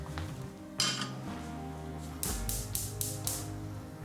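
A pot clanks down on a kitchen counter with one sharp metallic knock, followed by a quick run of lighter clinks and taps, close and fairly quiet against a low kitchen hum.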